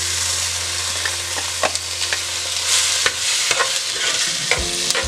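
Chopped tomato hits hot oil with onion, chili and garlic for charro beans with chorizo, giving a loud, continuous sizzle broken by scraping stirs and sharp utensil clicks against the pan.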